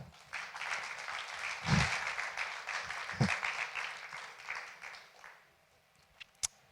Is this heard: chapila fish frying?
no